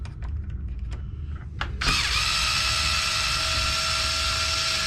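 Small power driver spinning out a 2mm bolt from the steering linkage of a Traxxas Maxx Widemaxx RC car, a few light clicks and then a steady high whirring buzz, close and loud, with no talking.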